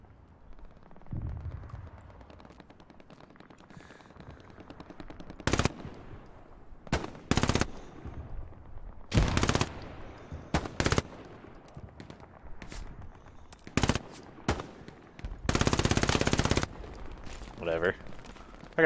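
Automatic rifle fire sounds in the World War II shooter Hell Let Loose. Loud, sharp bursts of various lengths come from near, with quieter distant shots and soft talk in between.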